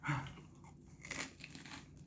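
Biting into a baked Jamaican patty gives a sharp, close crunch of flaky pastry at the start, followed by softer crackling chews, quiet overall.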